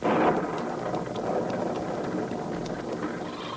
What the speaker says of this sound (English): Look at the lightning, Andy.